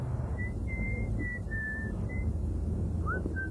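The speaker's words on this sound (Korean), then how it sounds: "이 휘파람을 불 여유는 어디서 오는 것일까?" Someone whistles a light, wandering tune in short phrases over a steady low engine hum.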